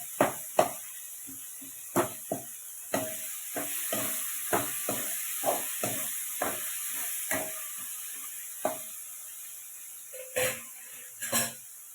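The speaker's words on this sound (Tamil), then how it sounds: "தக்காளி நல்லா வதங்கிடுச்சு." Tomatoes sautéing in a pan for a fish curry: a steady, quiet sizzle runs underneath while a spoon knocks and scrapes against the pan in a regular stirring rhythm, close by, with no talking.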